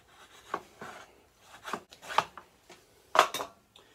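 Saker chamfer plane drawn along a wood edge, giving several separate rasping shaving strokes at an uneven pace, close and fairly quiet, with short pauses between passes.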